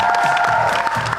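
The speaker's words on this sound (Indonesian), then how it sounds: "Oke, boleh tepuk tangan sekali lagi untuk SMK NU Babat Kudus." Audience at an Indonesian vocational talent showcase applauds and cheers for students of SMK NU Babat Kudus, a brief, dense burst of clapping and crowd noise under music.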